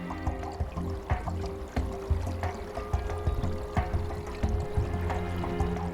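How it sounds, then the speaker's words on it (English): Wastewater runs through special glass tubes in a solar disinfection setup in Andalusia, an uneven gurgling pour with scattered clinks and knocks. "The water repeatedly runs through special glass tubes."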